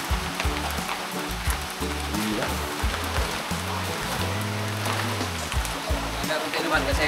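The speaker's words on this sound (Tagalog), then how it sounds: "Oh, lumalakas po yung ulan." A dense, steady wash of heavy rain pours down, with a low rumbling hum underneath and muffled voices talking faintly beneath it.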